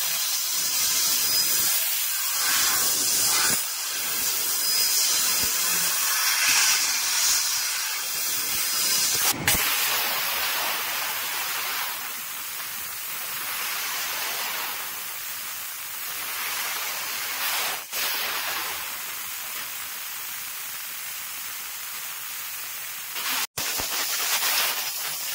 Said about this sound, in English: 3D 5-axis bevel fiber laser cutting pipes, square tubings and profiles.